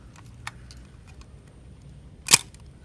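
A Nikon Nikkormat FT3 black film camera fires its shutter with one sharp, close mechanical snap, preceded by a few faint small clicks in a quiet room.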